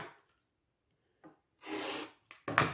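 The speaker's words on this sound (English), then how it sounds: "the next step I need to do is just to trim off that excess fabric." Quilt fabric trimmed along a seam line with a cutter, a few short scraping cuts close by with one longer rasping stroke, separated by quiet pauses.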